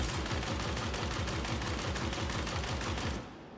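Sustained rapid-fire gunfire from a weapon in Star Citizen, fired without fighting the recoil: dense, evenly spaced shots rattle loudly for about three seconds, then cut off abruptly, leaving a brief fading tail.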